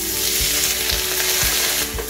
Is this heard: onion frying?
yes